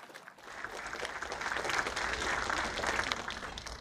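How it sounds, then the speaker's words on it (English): Steady applause from a room of people, a dense wash of clapping that swells quickly and holds at an even level throughout. "give Rian a big round of applause"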